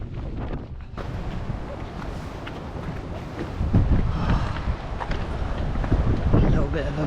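Wind roars into the microphone during a 100-mile trail race at Kullamannen in Sweden, a continuous low rumbling buffet that swells stronger in the second half, with speech mixed in.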